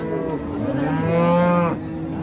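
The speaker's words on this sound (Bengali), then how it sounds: "অনেক অনেক পরিমাণে গাভী আছে আমরা এই পাশে দু একটা দেখব" A dairy cow at a cattle market lets out one loud, close, drawn-out moo lasting about a second, rising and then cutting off, with quiet surroundings.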